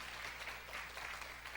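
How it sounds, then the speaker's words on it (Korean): Brief, faint applause from a church congregation for the worship team during a Sunday afternoon service, soft scattered clapping at a distance. "찬양팀 위하여 큰 박수 한번 해주시기 바랍니다."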